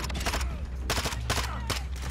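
Rapid automatic gunfire in the video game Modern Warfare 2, sharp dense bursts separated by brief gaps, loud and close, with a player talking between them.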